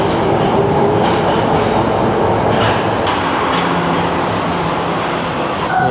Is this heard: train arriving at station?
yes